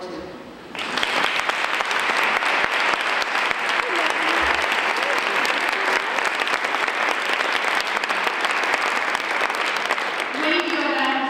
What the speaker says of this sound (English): I ask you all to applaud the WASP of World War II.